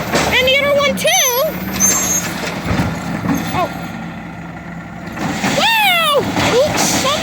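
A garbage truck's air brakes squeal in rising and falling whistling tones, with a hiss and engine rumble beneath, heard outdoors at moderate distance while a voice briefly exclaims.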